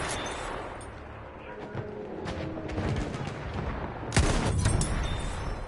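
Gunfire and explosions in a World War-style team shooter game, rapid shots and booms rolling through a busy battle mix, with a louder burst near the end.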